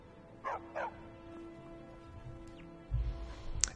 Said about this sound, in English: It's like a typical Skyrim dog.